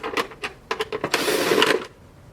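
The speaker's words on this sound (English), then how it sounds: "now we're going to pull out our 5 screws that are holding the back" A driver backs out screws holding the back of a Subaru WRX tail light to its internal chrome pieces, making a quick series of small clicking and ratcheting sounds close up, ending in a short rasping burst.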